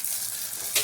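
An egg frying in a pan gives a soft, steady sizzle throughout, with a brief brighter crackle near the end; no one talks over it.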